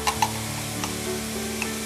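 Ginger garlic paste frying in hot oil while being stirred, a short close burst of sizzling with a few spoon scrapes and clicks, no speech.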